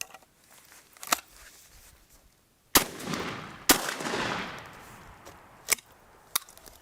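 A Doxcarms DP-26 over-under hunting shotgun fires test shots with different shot loads outdoors, loud sharp blasts with long rolling echoes, some spaced a second or more apart, with fainter clicks between.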